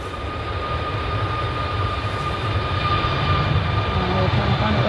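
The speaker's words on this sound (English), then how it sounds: "we've got this Ryanair Max departing" A Ryanair Boeing 737 MAX departs from Manchester Airport in the early morning, its jet engines producing a loud, sustained roar with whining tones that builds gradually.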